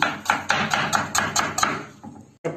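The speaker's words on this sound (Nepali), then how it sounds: "यसलाई टमाटरलाई टक्क मसिनो पारेर टमाटर काटियो टक्क पारेर" A knife chopping tomato finely on a board, about a dozen quick, evenly spaced sharp taps, close and crisp, with a short pause before the last stroke.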